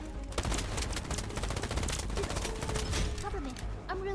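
Rapid automatic gunfire and overlapping shots rattle through a firefight in the video game Kill's Wild Assault, loud and continuous, while radio-style voices call out over the shooting.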